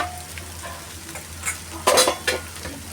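A spiced potato vada filling is stirred and mixed in a pan: a low background hiss gives way to several quick scraping, rustling bursts of a spoon turning the mash, close and clear.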